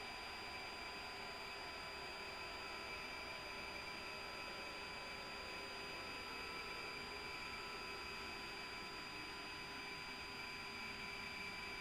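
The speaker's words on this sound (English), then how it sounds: "Anticipate a slight heat soak back as the engine stops." An A-10C jet engine in the DCS flight simulator spools down after shutdown, a steady, even whine with a hissing rush and faint fixed tones that hold at a constant level throughout, with no speech over it.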